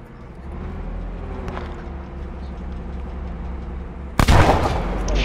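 A low rumbling background gives way to a sudden loud, sharp burst of gunfire near the end, followed by sustained noisy crackle.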